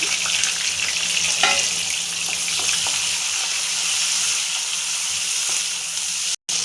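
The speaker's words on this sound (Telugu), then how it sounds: "సన్నగా తరుక్కున్న 2 ఉల్లిపాయలు దీన్ని వేసి లైట్గా వేసుకోవాలి ఫ్రెండ్స్" Thinly sliced onions fry in a tempering of hot oil, making a loud, dense, steady sizzle that runs unbroken until a brief cut near the end.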